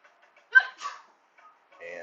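A quick, faint sneeze in a quiet room, with a few soft voiced sounds just after it.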